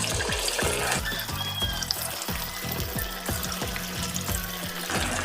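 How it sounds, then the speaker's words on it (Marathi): Marinated mutton pieces frying one by one in hot oil in a home kitchen, a continuous close bubbling sizzle with repeated soft splashes and crackles as pieces go in, no talking. "आता मॅरिनेट केलेलं मटणचं पीस तळून घेऊया एक एक पीस या तेलामध्ये सोडून घ्यायचा"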